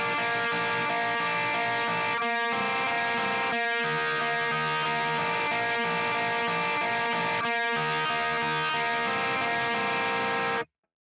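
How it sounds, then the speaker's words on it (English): Distorted electric guitar band mix for a song, with a second guitar playing a simple lead line over the chords, steady and loud throughout with a few brief gaps before cutting off. "the second guitar comes in with like a super simple lead just over top of that"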